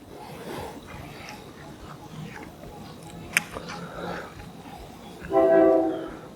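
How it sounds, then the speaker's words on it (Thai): A train horn sounds in the distance at Chom Thong halt in Bangkok, rising near the end over a low rumble of rail traffic, with a voice speaking faintly beneath. "เสียงรถไฟจะมาแล้ว"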